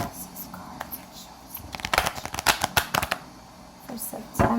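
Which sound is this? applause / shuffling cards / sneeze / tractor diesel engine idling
shuffling cards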